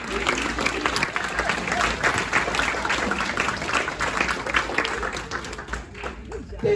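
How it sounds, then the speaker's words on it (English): An audience at an arts guild awards reception applauds the board of directors with dense, sustained clapping, loud and steady throughout, thinning slightly near the end. "stand up for one more big round of applause"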